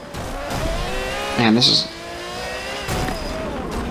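Ferrari F50 engine in Forza Motorsport 7, a steady droning rev under someone talking, with a brief louder surge and tire squeal midway.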